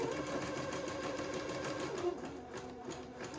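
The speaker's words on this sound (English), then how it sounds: "Now I'll set my sewing machine to a wide zigzag and come back and zigzag this top edge." A domestic sewing machine runs a wide zigzag stitch along the top edge of a gown, its rapid mechanical chatter steady and close for a few seconds before slowing slightly near the end.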